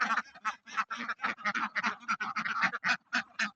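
A dense flock of ducks on a duck farm quacks in quick, overlapping bursts, a steady chattering chorus that stays close and fairly loud throughout.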